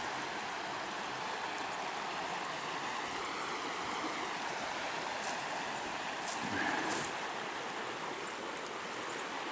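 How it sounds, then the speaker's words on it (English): A little river flows beside a trail camping spot in the Moose River Plains Wild Forest, Adirondacks, a steady close rushing of water with no break throughout. "Yeah, it's another little river right here."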